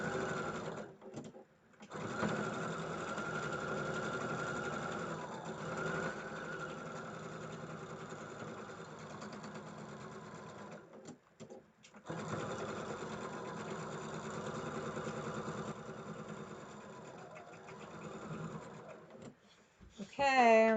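A sewing machine stitches a seam on a Moda Blockheads 3 quilt block, running steadily at a near, even hum with brief stops near the start and midway before the stitching resumes.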